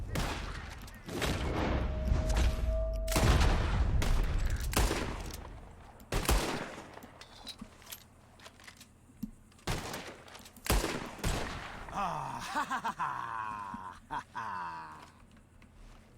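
Gunfire in the game Red Dead Redemption 2, a loud volley of close shots in rapid bursts that thins to scattered cracks, with ambient noise and faint voices later.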